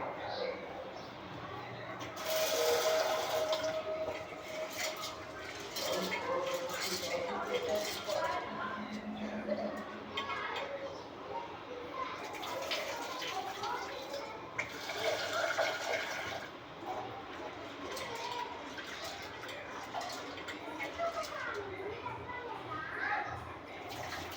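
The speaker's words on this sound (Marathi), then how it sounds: "हे धुवून घेते डाळ" Water sloshing and splashing in a small pot as chickpea lentils are rinsed by hand, with children's voices and household noise in the background.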